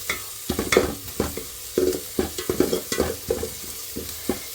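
A spoon stirs a tomato rasam mixture in a pan over a high flame, making rhythmic scraping and stirring strokes over a soft sizzle, close and steady for several seconds.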